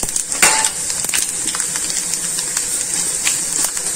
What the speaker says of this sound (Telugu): Oil heat ఎక్కిందండి. పచ్చెనగపప్పు వేసుకుంటున్నాను